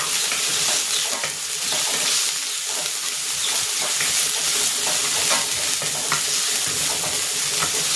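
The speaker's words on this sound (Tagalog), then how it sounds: "Igigisa ko na rin dito itong luya." Ginger sautéing with garlic in a hot pan, a steady dense sizzle with stirring scrapes throughout, close and continuous.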